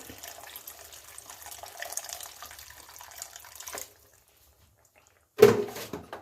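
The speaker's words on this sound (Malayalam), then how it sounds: "വെള്ളം തന്നെ ഒഴിക്കണം. അപ്പം നമുക്ക് ഒഴിക്കാം." Water runs steadily from a tap for a few seconds, stops, then a brief louder splash follows nearby as water is poured into a pot of fish pieces for curry.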